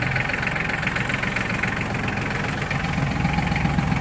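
An ISEKI Japanese mini tractor with a PTO-driven rotary tiller idles steadily after starting, its engine a continuous close, even chugging rumble.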